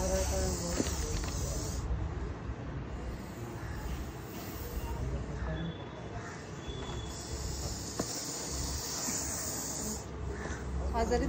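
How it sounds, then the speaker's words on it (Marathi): A large Russell's viper hisses loudly after being touched with a stick, a harsh, steady breathy hiss that carries on for about eleven seconds with small surges close by. "बघा स्टिक टच केली तरी त्याचा आवाज कसला जोराचा आवाज आहे।"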